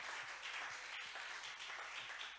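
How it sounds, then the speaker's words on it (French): A church congregation applauds in a steady, fairly faint wash of many hands clapping, heard from a distance and continuing throughout without talk. "On acclame pour la gloire du Seigneur"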